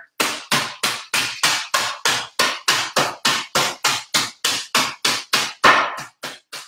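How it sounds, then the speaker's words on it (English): About twenty sharp hammer blows breaking up dry ice in a fast, steady rhythm, each a loud close crack on something hard and brittle. "I'm literally going to break up the ice with a hammer."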